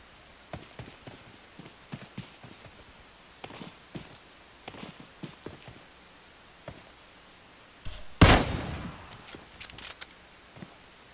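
Gunfire in PUBG Mobile at long range: scattered sharp cracks spread across the span, then one loud close burst near the middle followed by a few quieter shots, with no talk over them.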